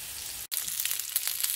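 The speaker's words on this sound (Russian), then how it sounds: "Вот я сейчас 4 поджарю," Four portions of shrimp frying in a pan, a close, bright continuous sizzle that cuts out for an instant and then carries on crackling, with no speech.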